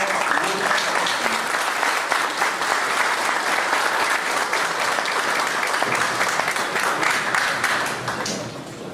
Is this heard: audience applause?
yes